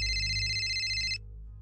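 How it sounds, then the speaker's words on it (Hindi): A phone ringtone sounds as a bright electronic tone, steady and close, then cuts off abruptly after about a second, leaving a low hum. "लेकिन तभी जेराल्ड का फोन बज उठा।"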